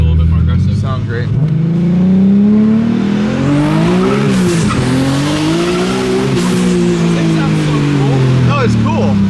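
A BMW E36 drift car running on pump gas strains through a dyno pull, its engine note rising, dipping and climbing again in a loud, wavering howl heard up close.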